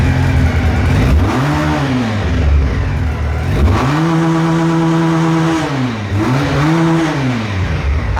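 A Pilder V4 motorcycle engine revs hard in repeated bursts, each rising and falling in pitch, loud and close throughout.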